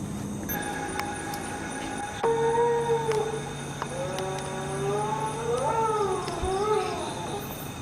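A long, wavering dog howl rises and falls over a steady background hum, repeating in drawn-out, mournful tones.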